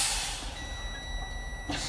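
A truck's low air pressure warning alarm sounds during a CDL pre-trip test with the system pumped down to about 65 PSI: a thin, steady high tone holds for about a second over a continuous broadband hiss.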